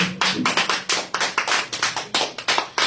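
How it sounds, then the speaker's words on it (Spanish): Congregation clapping in rhythm during a church service, about a dozen sharp, evenly spaced claps, close and moderately loud, with no talk over them. "Denle una ofrenda de palmas al Señor."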